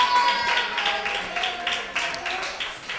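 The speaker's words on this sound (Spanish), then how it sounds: "Un aplauso, un fuerte aplauso." Applause for a young footballer at an end-of-season closing ceremony for a youth football club's under-11 team: dense, continuous clapping from a crowd, fairly loud and close, with faint voices mixed in.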